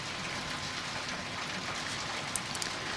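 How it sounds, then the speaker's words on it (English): Heavy rain pours down in a loud, steady hiss that never lets up, with a couple of sharper drip ticks near the end and no voices. "Wow, that is some rain."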